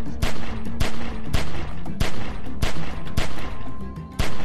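Rapid gunshots ring out in The Walking Dead: 400 Days video game, a steady run of sharp, loud cracks about every half second over a dense, noisy battle background, with no talk.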